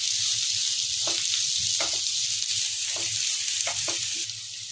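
Capsicum fries in a pan with a loud, steady sizzle, broken by a few sharp scrapes from stirring. No one speaks.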